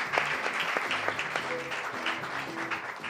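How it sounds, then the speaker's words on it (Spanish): Applause from a live studio audience on a late-night talk show, moderately loud and steady, with voices talking over it. "Licenciado Rufo, por favor, un aplauso"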